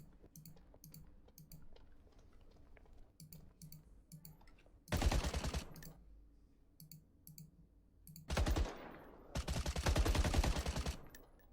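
Video game gunfire plays in quick rattling bursts, two loud sustained volleys among softer clicking, heard alone with no talking.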